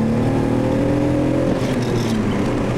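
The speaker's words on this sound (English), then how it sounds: "All right, guys, I'm driving the R32, bro." Engine of an R32 car rising and holding in a steady revving drone while driving, loud and close throughout with a continuous harmonic hum.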